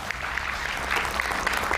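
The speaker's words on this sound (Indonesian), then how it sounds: "Kita berikan tepuk tangan." Audience applause from a TV talk show studio crowd, a steady dense patter of clapping throughout, fairly loud and continuous with no speech over it.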